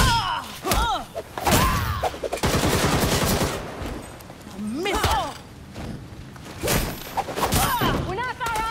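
Gunfire in the game Gotham Knights comes in loud bursts and thuds between stretches of voiced dialogue, with sharp impacts scattered throughout under talk.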